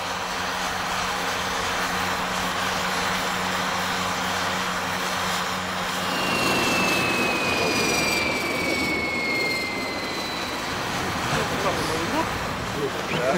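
A new aircraft based on the An-2, fitted with a replacement engine, roars on a test flight, a loud steady engine drone that swells and rises in pitch partway through, heard alone without talking.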